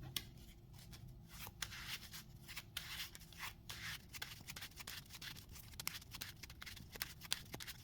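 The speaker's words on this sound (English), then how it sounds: "then we're gonna shuffle the encounter deck." Arkham Horror card game encounter deck being shuffled by hand at close range, a steady run of quick papery riffles and slides with sharp card snaps, no talking.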